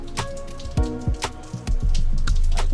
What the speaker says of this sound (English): the rain is crazy right now, huh?